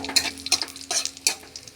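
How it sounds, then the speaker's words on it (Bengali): Dried red chillies and nigella seeds fry in a wok over soft sizzling, broken by four rhythmic stirring scrapes, close and clear with no talking. "দেখো লঙ্কাটা ভাজা ভাজা হয়ে গিয়েছে।"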